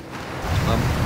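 A motorboat in a video game, a steady low engine drone with a rushing water and wind wash that swells louder over a brief moment, with a voice faintly underneath.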